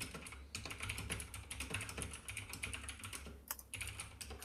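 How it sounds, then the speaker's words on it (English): Rapid clicky keystrokes from a mechanical keyboard, typed in quick irregular bursts with a couple of brief pauses, fairly close. "I hear a mechanical keyboard."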